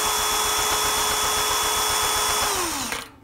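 A power drill fitted with a string winder attachment spins steadily while winding a bass string, a loud close whine with rhythmic pulsing that winds down and stops near the end.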